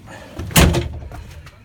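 A door on a bus being converted into a motorhome swings shut with one loud, close thud, followed by a short rattling fade.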